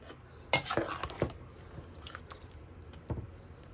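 A utensil stirring boiled eggplant and fried okra in a pan for a traditional Jaffna wedding dish, a few soft scraping and clinking strokes close by, scattered and quiet.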